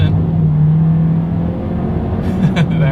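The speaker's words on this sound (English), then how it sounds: "let's do a quick little acceleration test here and see how quickly the Sonata here can get us up to speed" A 2021 Hyundai Sonata accelerates uphill on a misty, wet road: a steady close engine drone rising slightly in pitch from inside the cabin, with some brief noise and a voice near the end.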